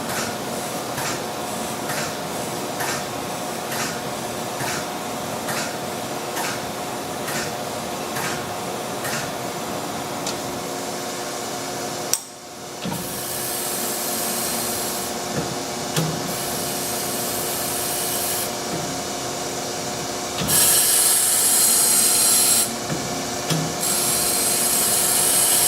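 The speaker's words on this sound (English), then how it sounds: "When this pass is completed, it's going to do its first dress." Chevalier AD III series surface grinder with auto dresser, a steady grinding hum with regular rhythmic passes, then an abrupt change into a brighter, harsher hiss of the wheel being dressed, continuous and close with no talking.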